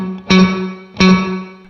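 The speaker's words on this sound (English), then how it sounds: "Let me switch to 70s mode there, which from what I understand is kind of like a hall reverb" Ambient electric guitar through a reverb set to its hall-like 70s mode: two loud struck chords about three quarters of a second apart, each ringing out with a smooth sustained tail.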